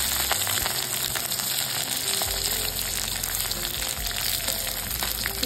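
Capsicum, green chillies and curry leaves sizzle in hot oil with whole cumin in a wok, a loud steady frying hiss that runs without a break and has no talk over it.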